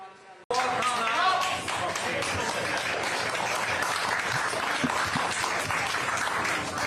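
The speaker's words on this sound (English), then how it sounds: "how about a bigger round of applause for the Homestead Dairy here?" Crowd at a presidential campaign stop at a dairy farm bursting into sustained applause after a brief moment of talk, a thick, even roar of clapping with voices mixed in.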